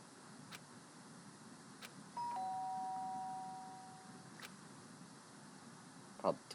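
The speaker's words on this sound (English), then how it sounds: "The sharp sound of the doorbell pierced my sleepy haze and pulled me back to the real world." A doorbell rings once with a sustained, clear electronic tone in a quiet indoor space, fading away, with faint ticks and a small clatter at the end.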